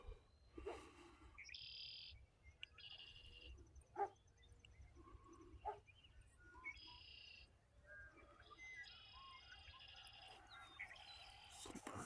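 Birds sing a sunrise morning chorus, with repeated bright chirps and warbled phrases from several birds at moderate distance over a quiet outdoor background.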